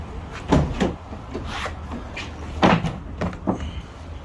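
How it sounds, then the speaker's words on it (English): A Ford Transit van door being opened, several close knocks and clunks of the latch and panel spread across a few seconds, moderately loud with no talking. "you just open up your door"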